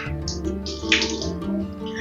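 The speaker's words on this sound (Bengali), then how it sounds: "তো আমি এটাকে একটা ছাঁকনির সাহায্যে প্রথমে একটু ভালো করে ধুয়ে নিচ্ছি" Mustard and poppy seeds are rinsed in a strainer under running water in a kitchen. Water flows steadily and splashes close by over a sustained tonal background.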